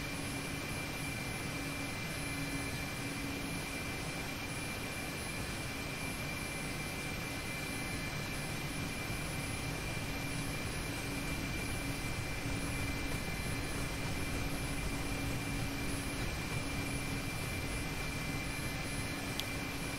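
A Mi-8 helicopter in the DCS flight simulator runs with a steady, loud drone of rotor and turbine engines, a constant whine over a dense low rumble that holds unchanged throughout.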